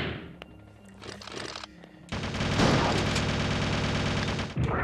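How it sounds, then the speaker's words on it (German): Shotgun blasts in the Resident Evil Survivor video game, loud and dense, with a sharp burst of gunfire around the middle followed by sustained heavy firing and game noise. "Ich nehme wieder die Schrotflinte in die Hand."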